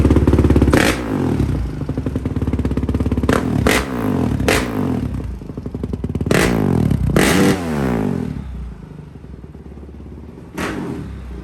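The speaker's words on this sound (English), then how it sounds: "You can't even hear anything or barely talk when this 450 is running." A 450 dirt bike engine runs loud and close, revving up and down repeatedly with rattling mechanical clatter and no voices.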